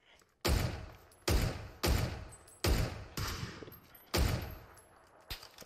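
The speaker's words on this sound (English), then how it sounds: "Oh, yeah, they're trying to shoot us too. Oh shit, we're being shot from somewhere." Gunshots fired at players in the battle-royale game PUBG, six or seven loud, booming single shots spaced about a second apart, each with a lingering decay, and no talk.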